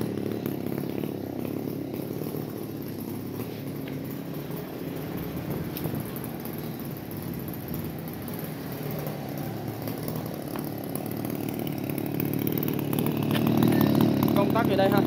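An Echo 381 chainsaw with a 39.6cc engine and 50cm bar runs steadily at a loud, continuous idle-to-mid drone that builds slightly toward the end, close to the listener.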